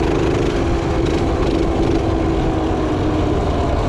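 A restored minibike engine idles steadily up close, a continuous low rumble with no pauses or revving, running alone with no talk over it.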